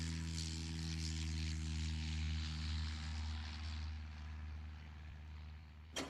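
Propeller airplane droning overhead, a steady low engine hum with propeller buzz that slowly fades as it passes, ending with a sudden brief click.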